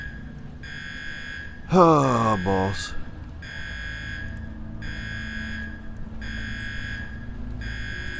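Pulsing electronic alarm from the video game UnderRail repeats in even, loud bursts, briefly interrupted by a man's short exclamation near the start before the steady buzzing resumes.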